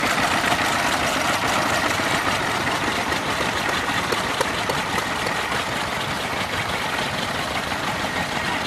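A row of old stationary engines, several of them Moffat Virtues, putters continuously at an outdoor steam rally, an even, loud, layered chugging drone.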